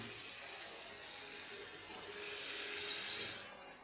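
Water pours steadily into a cooking pan of spiced vegetable curry made with gadal leaves, a soft, faint rushing that swells toward the end and fades away.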